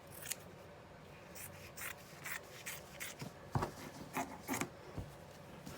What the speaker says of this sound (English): I'm going to just trim this down with my scissors first.